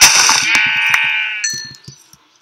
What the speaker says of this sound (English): There are sheep out here, and I must kill them.